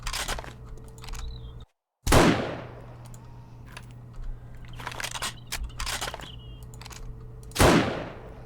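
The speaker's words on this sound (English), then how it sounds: "Now I'm just going to take that guy out with the sniper rifle, I think." Sniper rifle shots fired in the 7 Days to Die video game: two sharp, loud gunshot bursts with trailing decay a few seconds apart, over a steady low game hum and scattered clicks.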